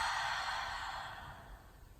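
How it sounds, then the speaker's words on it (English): A single long, audible exhale during a seated relaxation breathing exercise, close and breathy, starting strong and slowly fading over about two seconds, with no talk. "Audible exhale."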